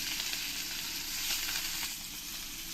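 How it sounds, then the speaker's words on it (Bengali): Continuous bright sizzle of katla fish frying in oil, an even crackling hiss throughout with no voices. "এই পরের মাছগুলো আমি একই রকম করে সব ভেজে নেব"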